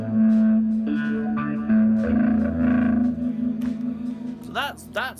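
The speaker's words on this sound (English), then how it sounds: "it's the phaser, the delay, and the reverb that make that lovely washy sound" Electric guitar notes drenched in a swirling phaser, echoing delay and reverb for a washy psychedelic sound, with a voice talking over it and sweeping effects near the end.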